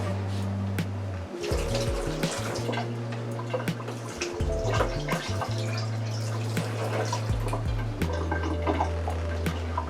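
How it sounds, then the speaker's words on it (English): Water is poured off about four to five stalks of chopped organic celery in a kitchen for vegan lentil soup, a splashing, trickling pour with clatter and steady low hum underneath. "I'm going to pour the water off."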